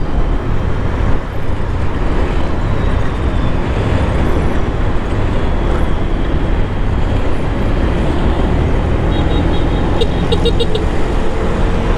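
Steady, loud highway traffic roars past on Marcos Highway, picked up by a GoPro Hero 7 mounted on a full-face helmet, with constant road and wind noise throughout.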